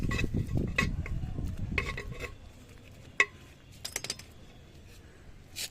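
Soil in an Australian hibiscus plant pot is poked and loosened. Close scratchy rustling comes first, then a few light, sharp clinks and scrapes spaced out in quieter moments.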